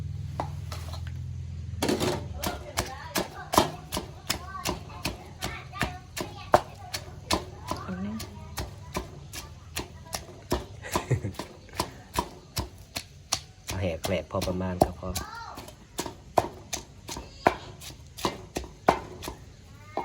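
Food pounded in a mortar while cooking mushrooms with chilies: steady repeated thuds, close and fairly loud, continuing at an even pace, with someone talking and distant voices underneath.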